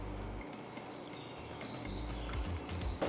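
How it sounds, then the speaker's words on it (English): Water is poured into a bowl of flour and shortening for fried bake dough, a soft continuous trickle heard up close for a few seconds, with some light bowl handling near the end. "Okay, so I'm adding my water now."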